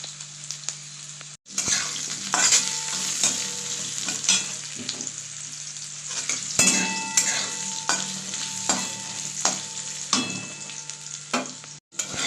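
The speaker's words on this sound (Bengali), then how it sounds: "তো এই তেলে আমি আলুগুলোকে লাল লাল করে ভেজে নেব, যে আলুগুলো সেদ্ধ করা ছিল সেগুলোই।" Boiled potatoes, lightly dusted with turmeric, fry in oil left over from frying paneer, giving a loud, steady sizzle broken by repeated scraping stirs of a spatula, with no talking.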